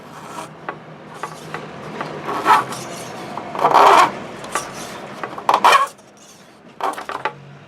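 An old blade is drawn in several short scraping strokes across soft aluminum, each rasping pass loud and close, separated by quieter pauses with no talking.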